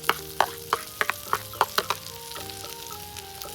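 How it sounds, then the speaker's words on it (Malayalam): Crushed black pepper is stirred in a hot pan: about eight quick, rhythmic spatula scrapes over a low sizzle, close and clear with no talking, then fading into quieter frying. "ഇത് ഇട്ടിട്ട് ഇതുപോലെ നല്ല ഇളക്കണം"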